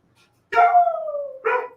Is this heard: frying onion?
no